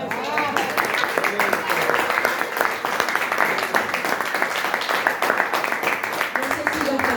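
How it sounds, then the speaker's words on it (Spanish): Church congregation applauding after a sermon, steady dense clapping throughout with voices talking and calling out beneath it. "Aplauden."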